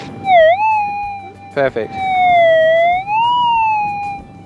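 Minelab metal detector sounding a target signal over a buried pipe: a steady electronic tone that dips, holds, then swells and bends back up, with a short burst of choppy tone midway and a brief spoken word.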